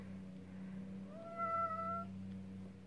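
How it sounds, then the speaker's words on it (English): One short, close meow from a chatty cat in a grandfather's home rises out of a quiet room with a low steady hum and no talk. "You meow so much."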